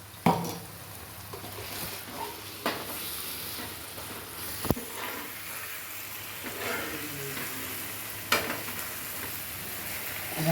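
Onion and tomato masala sizzles steadily in hot oil for a Tirunelveli-style mutton lung gravy, broken by occasional scraping knocks of a spoon stirring against the pan.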